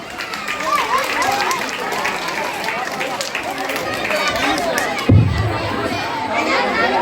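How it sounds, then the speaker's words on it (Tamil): At a government middle school's annual day, a large crowd of children and adults claps and cheers in a loud, continuous wash of shouting, chatter and clapping. "நல்லா கைத்தட்டலாமே."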